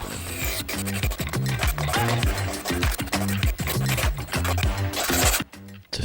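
A stainless steel knife blade being sharpened gives a close, continuous run of scraping, rasping strokes with a steady back-and-forth rhythm and no voices over it.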